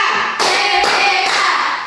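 Students start the 'tepuk PPK' clapping chant in a classroom, with three quick bursts of group hand claps over a continuous murmur of young voices.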